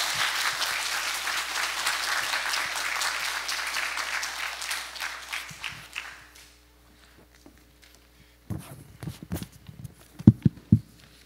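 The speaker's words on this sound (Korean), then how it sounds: "박수로 여러분 맞이해 주십시오." Applause from a church congregation welcoming a professor to the pulpit at a Sunday worship service, a steady crowd clapping for about six seconds that fades out, followed by scattered footsteps and taps near the front.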